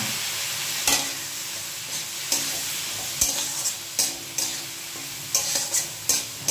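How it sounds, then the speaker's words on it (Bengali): Spices with ginger, green chilli, coriander and cumin sizzle steadily in a pan while a spoon scrapes and stirs in irregular strokes, close and fairly quiet. "ভালো করে মশলার কাঁচা গন্ধ যাতে চলে যায় সেই মতন কষিয়ে নিতে হবে"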